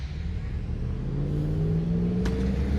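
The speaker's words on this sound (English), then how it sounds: "I can't take these loud trucks. They're the most annoying thing ever. They speed up." Loud trucks accelerate along a road on a Fourth of July night, a steady mid-distance engine rumble and rising drone that holds throughout, without talk.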